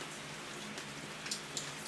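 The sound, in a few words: rain falling outside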